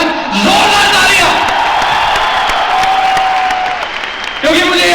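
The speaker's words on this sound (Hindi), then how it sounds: "एक बार जोरदार तालियां." Large crowd in an auditorium at a Vestige award function bursting into loud, sustained applause with whoops and cheering, dense and continuous, with shouting voices rising over the clapping.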